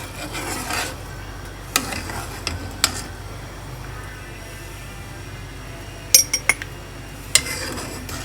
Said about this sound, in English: let's mix it up some more.